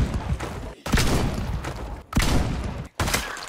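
Shotgun blasts fired at zombies in a Kentucky setting, in a mod inspired by Escape from Tarkov. Four loud, booming shots come in close succession, each followed by a short decaying tail.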